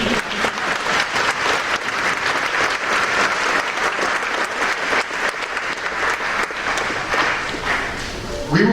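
A school auditorium audience at an eighth grade advancement ceremony gives a steady, loud round of applause lasting the whole stretch, with dense clapping and no pauses.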